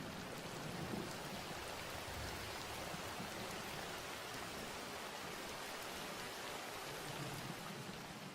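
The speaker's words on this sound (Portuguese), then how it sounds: "Novembro traz a estação das chuvas." Steady, dense rain pours down through the rainy season in Maasai country, a constant broadband wash of drops with a soft low rumble beneath, loud and unbroken throughout with no voices.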